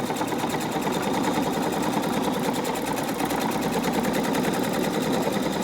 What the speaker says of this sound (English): I'm using a straight stitch, so hopefully you figured out how to do that on your machine